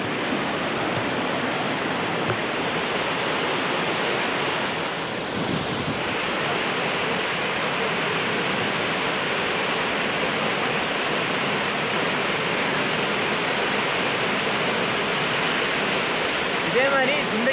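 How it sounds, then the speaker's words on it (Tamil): Hidden waterfall near Kotagiri pouring with a dense, constant roaring rush of water, steady and close throughout with no break. "நான் சொன்னேன் ஹிடன் வாட்டர் ஃபால்ஸ்."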